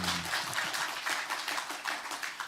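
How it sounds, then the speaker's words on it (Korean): Audience at a book concert breaking into applause, a dense burst of many hands clapping close by that continues steadily for a couple of seconds. "박수 한번 쳐주시죠."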